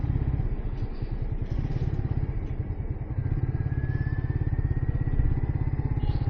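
Suzuki GSXR150 motorcycle engine running steadily while riding on the road, a loud continuous throbbing drone with faint horn-like tones in the background.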